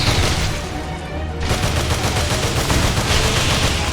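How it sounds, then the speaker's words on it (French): Rocket launcher fire and explosions in the Earth Defense Force: Iron Rain video game, a dense run of loud blasts and rapid gunfire-like bursts, briefly easing before resuming at full intensity, with no talk. "On a aussi un lance-roquette parce que on aime bien les gros flingues, les grosses explosions."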